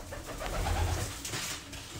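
A pigeon coos softly and close, a low rolling murmur lasting about two seconds with no voices over it, during its release after care.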